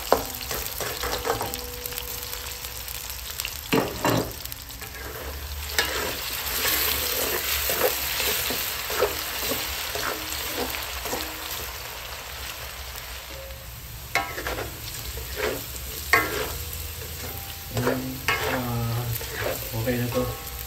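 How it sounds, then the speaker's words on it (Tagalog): Potatoes and carrots fry in a pan for a Kapampangan-style tortang giniling, with a steady sizzle and repeated stirring scrapes and clinks throughout, close and fairly loud, no talking. "Ipiprito ko muna itong ating patatas at carrots"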